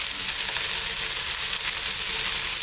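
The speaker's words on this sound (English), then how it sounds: "To that I'm going to add a little bit of soy sauce." Steady, loud sizzling of white cabbage and chilli frying in a hot pan as dark soy sauce hits it, a dense continuous hiss with no talking.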